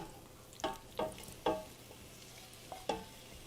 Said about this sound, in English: And I'm going to add the beef right in.